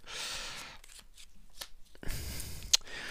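Tarot cards being cut and handled, a papery flutter and riffle at the start, then quieter rustles and a sharper slap of cards near the end, close and alone without speech.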